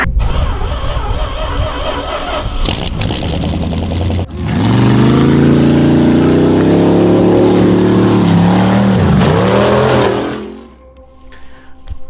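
A motorized Lego Technic 4x4 X-treme Off-roader 42099 drives with a loud, steady motor whine that holds for about six seconds after a short start, dips briefly and then cuts off to near silence.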